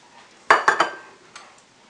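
Tamarind and whole red chilies go into a pan while an Indian prawn curry with coconut is cooked. Three quick clinks and clatters come close together, followed by a fainter knock.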